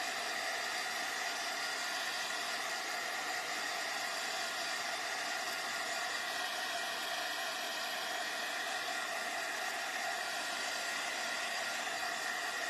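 A hair dryer blows on a painted wicker basket craft piece with a steady, loud, close whoosh and motor whine, unbroken throughout with no speech.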